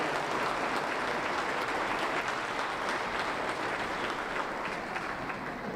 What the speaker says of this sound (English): can we have a round of applause for our judge?